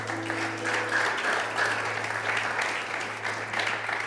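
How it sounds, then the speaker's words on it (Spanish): Church congregation applauding steadily during a sermon, a sustained even wash of clapping at moderate level with a low hum underneath. "Démosle una ofrenda de aplausos al Padre."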